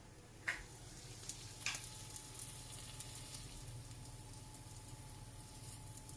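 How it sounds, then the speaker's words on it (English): Soft, steady sizzling of food frying in a pan, a faint continuous crackle with a couple of brief louder pops near the start. "That sizzling noise is the noise you want to be hearing."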